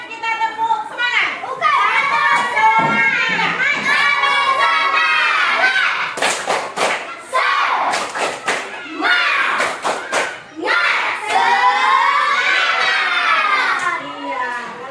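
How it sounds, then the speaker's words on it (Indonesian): Classroom children chant the rhythmic tepuk semangat together, their loud voices broken by tight bursts of synchronized claps in repeating patterns. "kita tepuk semangat."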